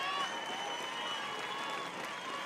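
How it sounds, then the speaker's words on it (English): A softball crowd cheers and applauds at an OKC Spark game, a steady wash of clapping and voices held at moderate distance for a couple of seconds. "Crowd cheering loudly for their Spark."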